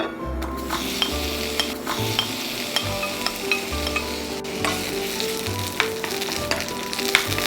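Onions (65 g) sautéing in a splash of olive oil, a steady close sizzle and crackle with repeated scraping stirs and occasional utensil clinks throughout, no voices.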